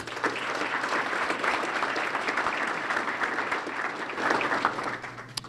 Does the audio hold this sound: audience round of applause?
yes